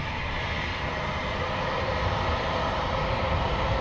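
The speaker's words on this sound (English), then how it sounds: "looks like Delta Airlines is ready to take the runway" Steady, loud jet engine roar holding at one level throughout, a broad rumbling hum with no breaks, from a Delta Airlines airliner on the runway at San Diego airport.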